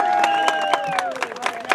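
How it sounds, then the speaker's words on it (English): An audience gives a round of applause, with regularly spaced claps cutting through a sustained tonal sound that slowly falls in pitch, all over about two seconds. "Give Diana a big round of applause."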